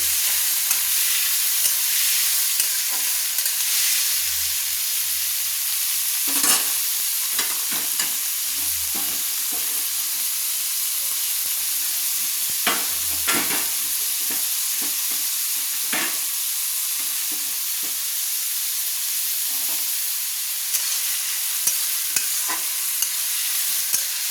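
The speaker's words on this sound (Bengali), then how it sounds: "আমি যে পেঁয়াজ কুচিয়ে রেখেছিলাম সেই পেঁয়াজগুলো দিয়ে দিচ্ছি। দিয়ে ভালো করে নেড়ে নিচ্ছি।" Chopped onions stirred and fried in a pan for chicken curry, a continuous loud sizzle with regular scraping and stirring strokes and occasional clatters of the spatula, heard close and alone for a long stretch.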